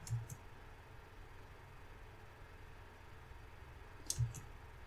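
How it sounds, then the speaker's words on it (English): A computer mouse clicking on a desktop running Ubuntu Budgie 17.04 Beta 1, with two faint, quick clicks early on and a sharper pair near the end over quiet room hiss. "Let's try to click here."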